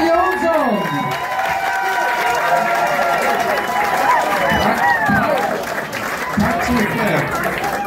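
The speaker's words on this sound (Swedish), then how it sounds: "vi jobbar upp en applåd för nästa komiker här" Comedy club audience applauding and cheering to welcome the next comedian, sustained loud clapping and crowd noise with voices calling out over it.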